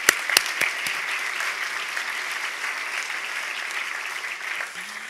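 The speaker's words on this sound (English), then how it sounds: "I think that's worth a round of applause." Audience applause at a professional design association's annual meeting, a dense, steady clapping from a crowd that carries on evenly throughout, with a few sharper claps near the start.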